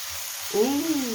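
Fish cake and small pieces of meat stir-fried in a pan, giving a short soft sizzle with a light scrape of stirring partway through.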